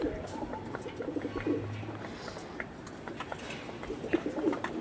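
Mundi Sada Dasu line pigeons coo in repeated low, soft phrases amid a busy loft, with faint chirps and a steady background hum throughout.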